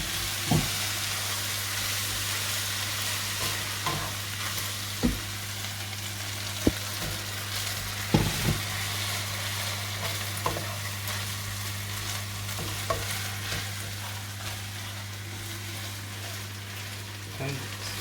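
Water from a boiled kettle is poured a little at a time into a pan of pirate hotpot, which sizzles and hisses steadily while being stirred, with faint scraping taps of the spoon throughout.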